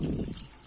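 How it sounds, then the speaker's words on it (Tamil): Water gushes into a pot of tomato curry for a brief moment, a full splashing pour that quickly tapers off. "தண்ணி ஊற்றிக்கலாம்"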